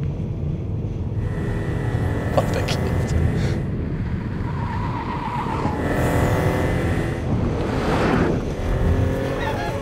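A 2014 Mini Cooper is driven hard through a roundabout, its tires squealing and skidding under a steady engine drone, with a man exclaiming briefly over the noise.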